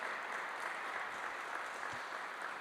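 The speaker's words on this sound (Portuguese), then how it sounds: "Aplauda Jesus." A church congregation applauds during a sermon, a steady, fairly faint wash of many hands clapping at a distance with no break.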